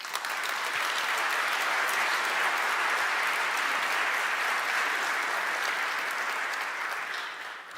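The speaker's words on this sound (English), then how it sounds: "Let's give him a round of applause." Sustained applause from an audience, loud and steady, fading slightly at the end.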